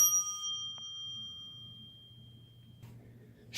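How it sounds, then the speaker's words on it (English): A doorbell rings indoors with a bright, clear chime that rings out and slowly fades over a quiet room, then a second sharp tone starts right at the end. "Oh, this must be the doorbell."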